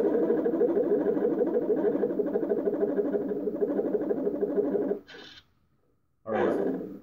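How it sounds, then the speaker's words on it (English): A Star Wars Black Series Kylo Ren helmet voice changer set to pitch four gives a loud, buzzing, vibrating and echoing processed voice for about five seconds. Two short, sharp bursts follow after a pause. "And this is pitch four, which is just way too loud. You can hear it vibrates and echoes."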